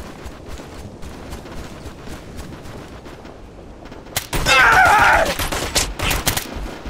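Sustained bursts of rifle and automatic gunfire from the tactical shooter game Red River erupt loudly after a few seconds of quieter background, with rapid overlapping shots continuing to the end.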